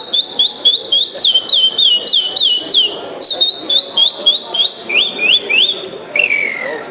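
A man whistles an imitation of the Brazilian curió bird's song, a rapid run of sharp repeated slurred notes in quick rhythmic phrases, loud and close, with a brief pause midway.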